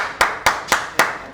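Four sharp, separate hand claps at a Sankranthi TV event, evenly spaced and fairly loud, with no talking.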